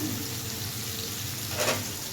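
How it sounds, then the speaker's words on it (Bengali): Ground coriander, cumin and red chilli powder sizzle in a pan as spices are fried for a Barisal-style aar fish curry. The frying is a steady close hiss with a brief stirring scrape near the end. "ভালোভাবে মশলাটা দিয়ে আমি আবারও কষিয়ে নেব।"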